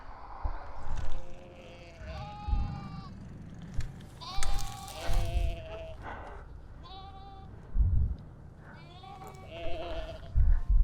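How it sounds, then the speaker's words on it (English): Black sheep bleat in a field along a countryside bike ride, several loud wavering calls coming in separate bursts from more than one animal, with low wind rumble between them. "All the black sheep."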